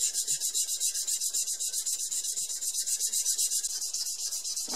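A bone saddle for an acoustic guitar is sanded on 400 grit sandpaper in quick, even back-and-forth rasping strokes, close and steady with no voices.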